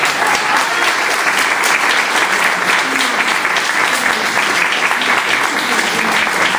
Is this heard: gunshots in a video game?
no